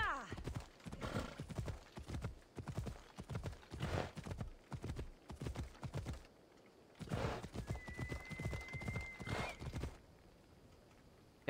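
Horse hooves clip-clop in steady galloping bursts while riding in Assassin's Creed Odyssey, with a whinny partway through, then the hoofbeats stop and leave a quiet ambient hush.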